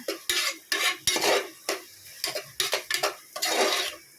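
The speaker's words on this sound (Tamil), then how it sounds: "நம்ம நல்லா வதக்கி விட்டுக்கணும்" A spoon scrapes and stirs biryani masala mixture being sautéed in a pot, in quick repeated strokes with a faint sizzle underneath, close and fairly quiet.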